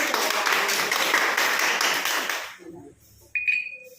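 Children clapping in a classroom, a dense burst of applause for about two and a half seconds that fades out, followed by a brief tone.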